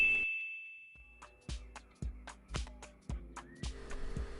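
A subscribe notification bell chimes with a sustained ding, then a series of about seven short, evenly spaced ringing hits, close and clear, with no talking.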